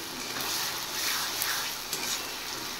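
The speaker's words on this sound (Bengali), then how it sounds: "এবার এই রসুন আদা সহ আবার পেঁয়াজটা আমি ফ্রাই করব।" A garlic, ginger and onion paste sizzles and crackles in hot oil while being stirred for a lemon chicken dish, a steady close frying hiss with a few light scraping ticks.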